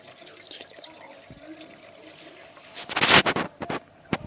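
Lego boat set into aquarium water, producing a brief cluster of splashes and sloshing that rises briefly over a quiet indoor background, with soft speech before.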